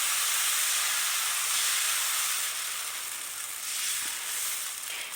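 Baghrir batter ladled into a hot, greased non-stick pan gives a steady, close hissing sizzle that holds for several seconds and eases slightly toward the end, with no talking.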